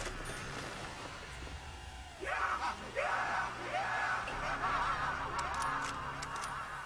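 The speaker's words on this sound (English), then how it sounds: "if you go up to the shelf in the Doctor's quarters, guys, and press the action button, you hear a screaming noise" Eerie screaming comes from a shelf in the Doctor's quarters on the Shi No Numa map of Call of Duty: World at War Zombies, with ragged, wavering cries rising out of a dense, noisy game ambience.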